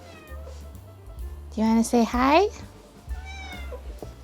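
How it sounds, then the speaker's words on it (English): Bread, a pet cat, lets out a few drawn-out, rising meows up close, with a person talking softly before and after the cries. "this is Bread. She comes in and meows at me."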